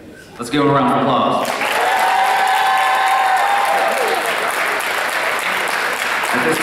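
An audience breaks into sustained applause for student athletes at a signing day ceremony, a loud dense wash of clapping that starts abruptly after a short spoken prompt, with a few cheers mixed in.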